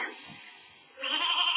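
A sheep gives a short, close bleat after a magic staff summons a sheep warrior in the Skylanders Swap Force video game. A brief wavering cry stands alone against faint game sound.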